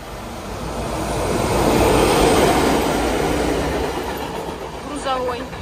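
A train rumbles past close by, a broad rolling roar that swells to a peak mid-clip and then slowly fades, with faint high squeals near the end.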